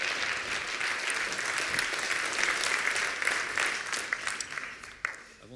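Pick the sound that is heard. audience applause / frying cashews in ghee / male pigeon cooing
audience applause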